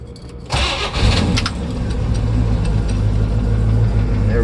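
A 1968 Chevrolet Chevelle convertible cranks briefly and fires, its engine catching at once and settling into a loud, steady idle that runs close by to the end.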